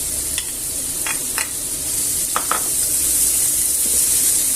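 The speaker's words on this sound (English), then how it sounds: "And in the same oil I'll add the onions" Onions and peppers sizzle in hot oil in a pan, a steady bright hiss that holds throughout and builds slightly, broken by a few brief scraping stirs near the start.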